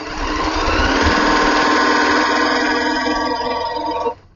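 A fast-running sewing machine stitches fabric in a sewing store, its motor and needle producing a steady, dense mechanical whir that holds for about four seconds before cutting off abruptly.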